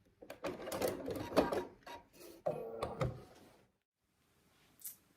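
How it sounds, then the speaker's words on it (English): A sewing machine runs in short close bursts while reverse stitching to secure the end of a quilt seam, with clicks between runs and a quieter stretch near the end. "I always like to, you know, do a bit of a reverse stitch just to secure at the end of each seam"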